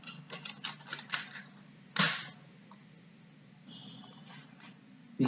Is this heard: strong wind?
no